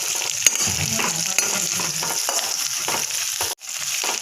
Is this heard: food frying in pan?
yes